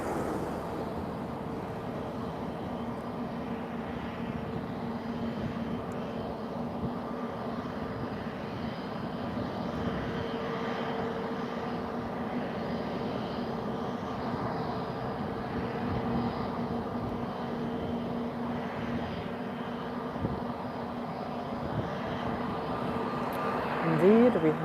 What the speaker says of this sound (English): we have a landing coming in. An Airbus by TAP Air Portugal.